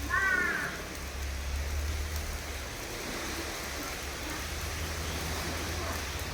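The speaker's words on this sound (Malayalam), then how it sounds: "മഴ പെയ്യുണ്ട്, അതാണ് നിൽക്കുന്നത്." Steady rain falls outdoors in a continuous, even hiss that stays at a moderate level from start to finish, with a faint voice briefly at the start.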